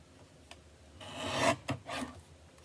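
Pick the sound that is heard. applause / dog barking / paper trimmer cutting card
paper trimmer cutting card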